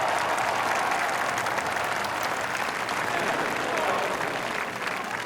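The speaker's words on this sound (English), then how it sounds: "Oh, you got to applaud him there, though." A golf crowd gives steady, dense applause after a bold eagle putt. The clapping is loud and sustained throughout, with faint crowd murmur underneath.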